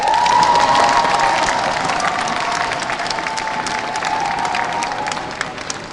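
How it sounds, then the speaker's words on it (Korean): Loud, sustained applause from a large audience at a Rotary district convention, mixed with some cheering and crowd noise, slowly tapering over several seconds. "뜨거운 박수 한번 주시죠."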